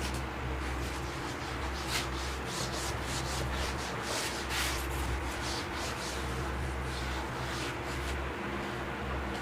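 Steady, continuous rubbing and scraping of an eraser across a classroom board during a Class IX geometry lesson, with no talking, at moderate level over faint background hum.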